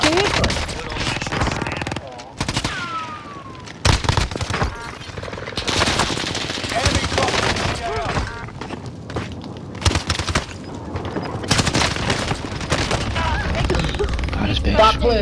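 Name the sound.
gunfire in Warzone Rebirth video game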